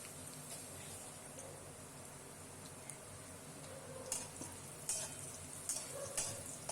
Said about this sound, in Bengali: সামান্য একটু নাড়াচাড়া করে ভাজবো, বেশিক্ষণ ভাজলে লাল হয়ে যাবে।